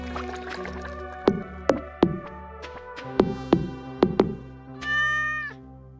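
A cat meows in the video game Stardew Valley, one drawn-out meow near the end, following a series of sharp plucked musical notes over a steady game soundtrack.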